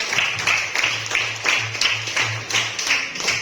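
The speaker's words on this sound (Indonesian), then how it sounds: "tepuk tangan untuk mereka" Applause from a group in a school supervision session, a steady patter of claps at moderate volume running for a few seconds with no talk over it.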